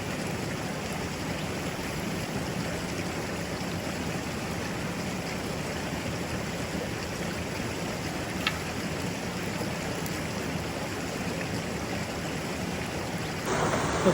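Small river in Tasmania's Huon Valley flowing past a bank, a steady broadband rushing and trickling of water heard close up and unbroken for the whole stretch.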